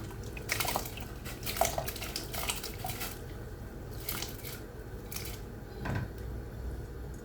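Soaked rice is drained of its water and tipped into a pot of boiling water, giving irregular drips, splashes and wet squishing sounds at close range in a home kitchen, with no talking.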